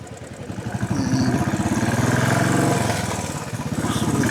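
A motorcycle engine drones steadily while riding, a loud continuous throbbing hum with a slight rise and fall in pitch, close and unbroken throughout with no talking.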